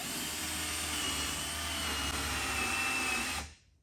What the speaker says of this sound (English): because hickory is rock hard, that's why I'm pre-drilling these prior to running a screw in